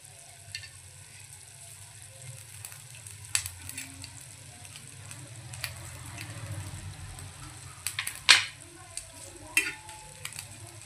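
Cardamom, cumin and black pepper fry in a little oil for a village-style mutton dish, giving a soft, steady sizzle with faint stirring clinks and a few brief sharp scrapes.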